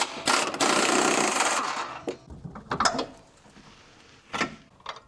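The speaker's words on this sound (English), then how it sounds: "Next, remove the top bolt." A tool works the top shock bolt on a 2021 Jeep Wrangler during a Bilstein shock install: a loud mechanical whirring burst followed by several sharp ratcheting clicks and clanks, close by.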